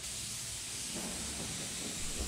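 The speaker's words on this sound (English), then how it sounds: "A lot of your clear is just spraying into the air," A continuous hiss of a spray gun applying clear coat to a 1987 Chevrolet Blazer, steady and fairly close, with no talking.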